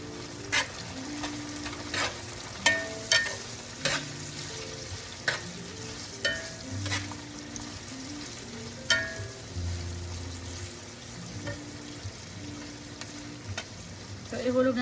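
Oil spatters and sizzles in a pan of pinakbet with shrimp paste, with sharp scattered pops and crackles over a steady frying hiss and occasional stirring scrapes, close and moderately loud.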